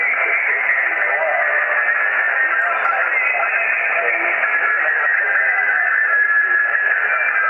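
Radio receiver fed by a mini-whip antenna with the MFJ 1026 noise canceller switched off, giving a steady, loud wash of static and hiss with faint voice or music buried underneath, continuous throughout.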